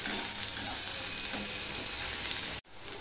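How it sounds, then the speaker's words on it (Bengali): Onion, garlic and green chili frying in a pan, giving a dense, steady, close sizzle that runs unbroken for nearly three seconds, then cuts out abruptly for a moment before resuming. "এবার এটাকে আমি একটুখানি ভেজে নেব"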